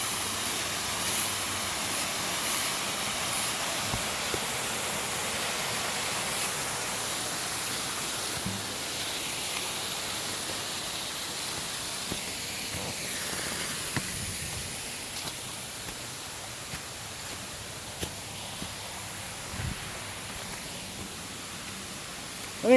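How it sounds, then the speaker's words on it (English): Waterfall in an outdoor natural setting, a steady broadband rush of falling water that stays constant and moderately loud throughout, with no talking over it. "We made it to the waterfall."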